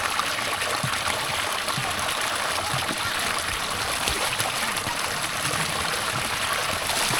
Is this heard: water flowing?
yes